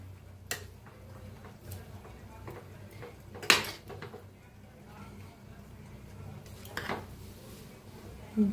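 Spiced masala rice mixed in a pressure cooker: a few scattered metallic scrapes and knocks of the spoon against the pot, with a louder clank midway and another near the end, between quiet stretches.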